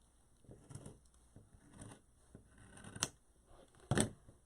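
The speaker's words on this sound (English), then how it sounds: "I'm going to cut just along this line, and you're going to need really sharp scissors for this" Very sharp craft scissors cut along a marked line during a St Patrick's Day gnome wreath project, giving a few crisp snips spread across the moment, with the loudest close snip near the end.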